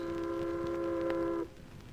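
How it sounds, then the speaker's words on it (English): Tugboats and ships hooting in a harbor, a sustained tonal horn blast holding steady before cutting off sharply, leaving faint background noise afterward. "By the way these tugs and ships are hooting, I'd say so."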